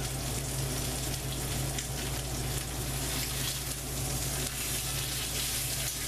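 A New York strip steak sizzling in a cast iron skillet, a loud, constant hiss of frying close to the microphone with a low steady hum beneath it.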